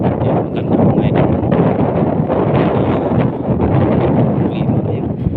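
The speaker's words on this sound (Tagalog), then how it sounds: "Oo, ang lakas ng hangin" Strong night wind in Saudi Arabia buffets the microphone with loud, rough gusts and rumbling, continuing steadily throughout.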